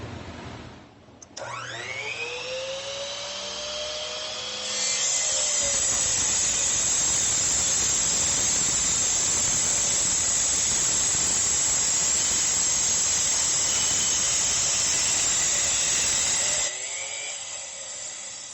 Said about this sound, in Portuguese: Vamos lá, corte em tronco de eucalipto.